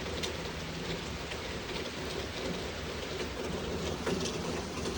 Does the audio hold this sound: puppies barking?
no